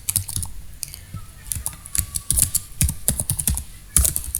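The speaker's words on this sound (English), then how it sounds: "generally what happen if we type something like this, employee code" Keys clatter on a computer keyboard in quick irregular bursts while VBA macro code is typed in Excel, close and crisp, with no one speaking.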